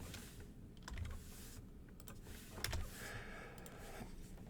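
A password is typed on a computer keyboard, a quiet close run of key clicks and taps in uneven bursts with a few louder strikes.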